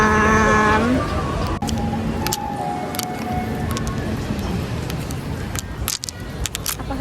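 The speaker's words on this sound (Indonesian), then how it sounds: "suara dari truk sampah" A garbage truck in Taiwan playing its melody while driving past, a tinkling electronic tune that fades out within the first second, followed by street traffic noise, a few clinks and brief voices.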